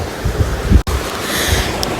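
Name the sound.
large airport fan blowing strong air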